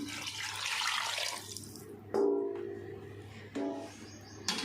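Water is poured from a vessel into a cooking pot of beef paya, about two litres going in. The pour is a steady splashing rush that eases off, followed by a few separate sloshes and splashes.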